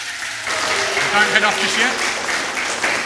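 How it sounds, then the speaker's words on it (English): A church congregation claps in welcome for new members, a steady spread of applause running throughout while someone talks over it. "Let's give them a round of applause"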